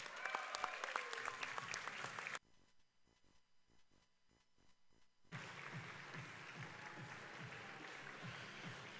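Applause from the audience at a FIRST robotics qualifier in New Haven, a dense wash of clapping that suddenly drops to a thin patter of a few hands, then swells back to full, sustained applause.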